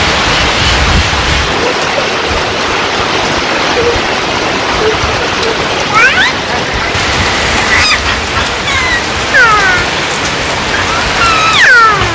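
Rain falls steadily on a Bangladeshi village, a loud continuous patter with honking duck or goose calls breaking through now and then toward the end.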